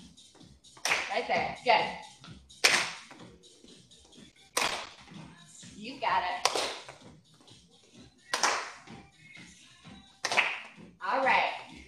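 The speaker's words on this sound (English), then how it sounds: "You wanna go ahead and add a little clap." Sharp single hand claps ring out one by one at a steady pace during a seated Silver Sneakers Classic exercise class, close and fairly quiet, while an instructor talks between them.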